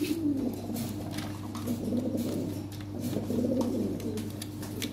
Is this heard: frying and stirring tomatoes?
no